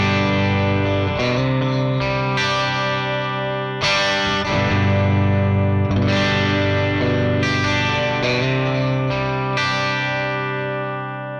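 A distorted electric guitar through a Nux Solid Studio amp modeler with a green-back 4x12 cab impulse plays a series of strummed chords with a thick, processed amp tone, ringing out between strikes.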